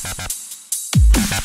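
A Skrillex-style synth screech bass with sine shaper distortion plays in harsh, buzzy stabs. After a short gap it dives in pitch into a heavy low growl, then returns to choppy screeching pulses.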